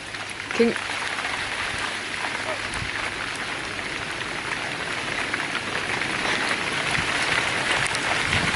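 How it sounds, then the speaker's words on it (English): Hail falls outdoors at a site being dug for a retaining wall, a dense, steady pattering hiss that grows slightly louder, with a brief knock near the start. "so it is hailing again, and we are just finishing up for today"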